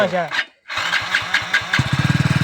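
Motorbike engine starting: a brief cranking burst, then a short pause, and the engine catches into a steady, rapid thumping idle at close range while people talk over it.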